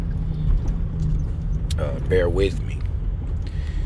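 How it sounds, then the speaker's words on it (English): Steady low rumble of a truck engine and road noise from inside the cab while driving, running continuously under a voice speaking briefly. "I'm driving right now, so excuse the noise in my truck."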